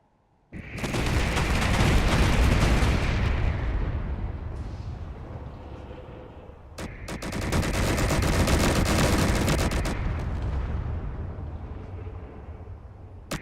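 A ship's weapon in a Star Wars-style ship-building game fires long, extremely rapid bursts of gunfire, loud and close, in two sustained stretches split by a short sharp break.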